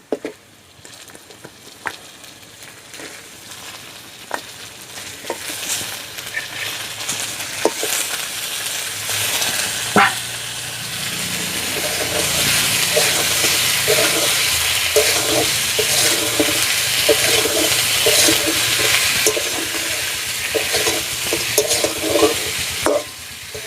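Chicken feet frying in a pan with chilli powder, a constant sizzle under repeated scraping and stirring strokes with a utensil, growing louder and busier partway through and continuing to the end.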